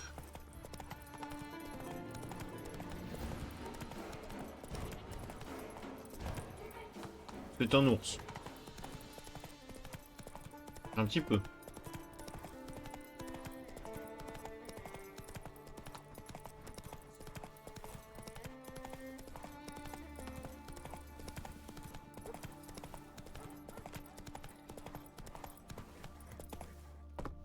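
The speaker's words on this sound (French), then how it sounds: "Cheval qui va là où il veut." Horse hooves clip-clop steadily in The Witcher 3 video game, a rhythmic trotting pattern under quiet game music with a couple of louder bursts, while someone briefly speaks.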